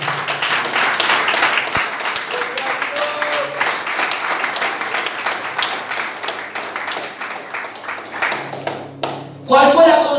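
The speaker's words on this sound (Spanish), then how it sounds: "Aplaudan que." A church congregation breaks into steady, dense applause during a sermon. The clapping fills the room for most of the stretch, fades briefly near the end, then picks up again in a louder, closer burst.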